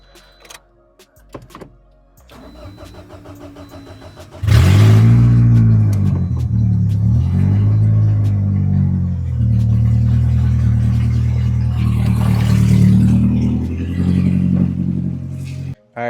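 A built Scion xB engine cranks and fires up after an exhaust gasket replacement, settling into a loud, steady rumbling idle with slight revving fluctuations, preceded by a few quiet clicks and clunks.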